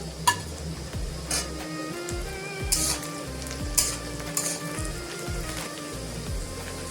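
Green chillies fry in a hot pan for a shepu (dill leaf) bhaji, with a steady close sizzle and crackle and a few louder spits and stirring scrapes throughout.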